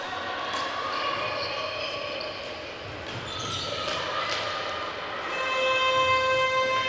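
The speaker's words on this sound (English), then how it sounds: "because that is the final hooter here" A final hooter sounds at the end of a women's EuroCup basketball game between Sanse Complutense and Sumchanka, a steady tonal blast rising out of the arena crowd noise near the end.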